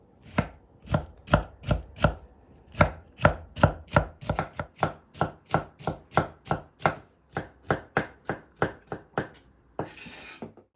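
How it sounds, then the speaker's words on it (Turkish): Two red kapya peppers being finely chopped with a knife on a board, a long run of close, crisp, evenly paced chops with brief pauses, ending in a short scraping swipe. "Ardından 2 kapya biberi de tıpkı soğanlar gibi ince ince doğruyoruz."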